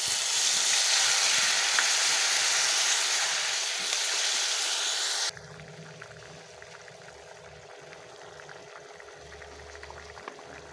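Loud broadband sizzle of sautéed pumpkin frying in a hot pan that abruptly quiets as a small amount of water is added, leaving a softer bubbling simmer with faint clinks.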